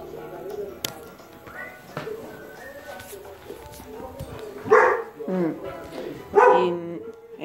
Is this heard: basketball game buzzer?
no